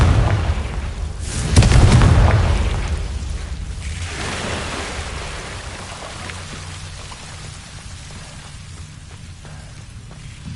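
Confringo spell explosion in a video game, a loud boom that swells and rumbles for about two seconds, then decays into a long crackling, rain-like patter of debris that fades away.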